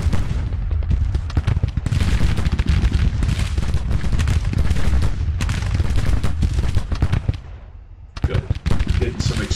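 Musket volleys and cannon fire from a Civil War battle in Grand Tactician crackle in a dense, sustained fusillade, loud and steady with a brief lull near the end before the firing resumes.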